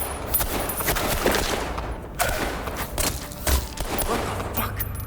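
Bursts of gunfire in the horror action game Hell is Us, several sharp rapid volleys spread across a few seconds amid game effects, with a voice speaking over them.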